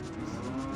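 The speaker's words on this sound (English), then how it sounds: "shout outs to the low health mooing noise" Low-health cow mooing alert from the game Ocarina of Time randomizer, a steady low bovine drone filling the short moment on its own, with no talk.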